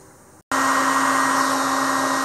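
A heat gun blows steadily on the magnets of a Yamaha XV1700 Warrior motorcycle starter, switching on after a short gap into a loud, close, continuous airy roar with a faint whine.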